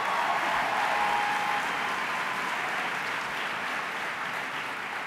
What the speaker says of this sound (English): Let's give Laura a round of applause.